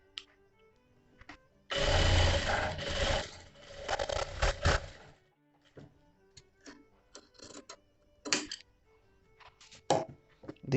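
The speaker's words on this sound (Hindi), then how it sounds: "अब इसमें ऊपर से प्रेस सिलाई लगा देते हैं।" A sewing machine top-stitches a princess cut blouse in a loud run of about three seconds, followed by several shorter bursts of stitching with quiet pauses between them.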